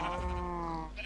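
A sheep in the video game Minecraft lets out a single drawn-out bleat, clear and close, filling most of a second before tapering off.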